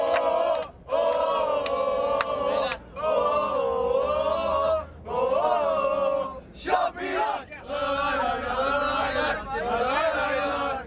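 Green-and-white Bursaspor under-15 champion players chanting together on their team bus, loud rhythmic group shouts in repeated bursts with brief pauses between phrases, close and energetic.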